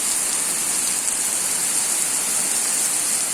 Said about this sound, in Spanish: Eso es la lluvia en la selva, en la cultura Ashaninka.